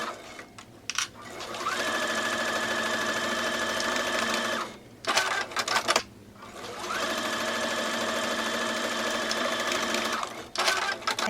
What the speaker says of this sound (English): Next, I will join the shoulder seams following a 1/2 inch seam allowances.